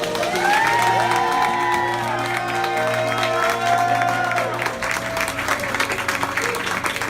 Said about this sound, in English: can I get a huge round of applause for all of our organizers?